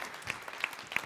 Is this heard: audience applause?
yes